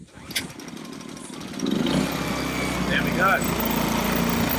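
A Fuji-Micro F6200Ri 3.7kVA inverter generator is pulled to a manual start, with a brief rattle and then a catch into a steady, close, buzzing run. Someone speaks briefly as the engine settles.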